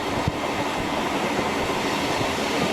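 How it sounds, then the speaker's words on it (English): Steady, loud rumble of a passenger train riding through Italy toward Siena. Broadband rolling noise is heard from inside the carriage, with a faint click near the start. "here we are on the train going to Siena this morning"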